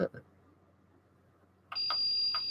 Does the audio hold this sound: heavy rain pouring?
no